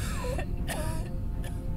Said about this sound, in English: You have to suffer with the coughing.